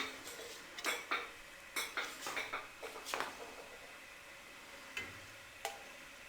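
A metal spoon scoops cooking oil into a pot on a kitchen stove, giving a series of light, irregular clinks and taps of metal on metal, fairly close and quiet, with no talking.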